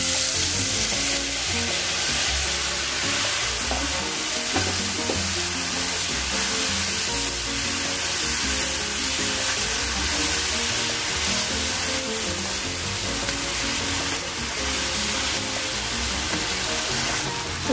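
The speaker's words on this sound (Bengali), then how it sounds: "এবারে আমি কড়াইতে দিয়ে দিচ্ছি আমুলের ঘি" Spice paste fries in Amul ghee in a wok with a loud, dense, continuous sizzle that hisses close up for the whole stretch with no talk.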